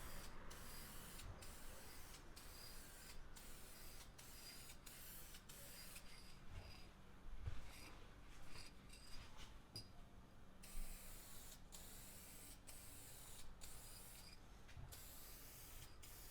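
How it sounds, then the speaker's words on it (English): A spray can hisses clear coat onto a soft wooden box in a steady, continuous spray, broken by short bursts and pauses. "just a little bit of a spray coat"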